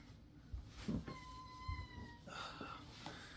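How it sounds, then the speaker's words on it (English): A house cat meows several times to be let out, fairly faint and nearby, with drawn-out cries separated by pauses over a quiet room with some shuffling. "cat's wanting me to let her out"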